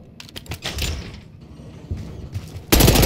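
Gunfire in the Call of Duty: Black Ops 6 campaign during an office firefight, rapid bursts of shots scattered through the clip, ending in a loud sustained volley, with no talk.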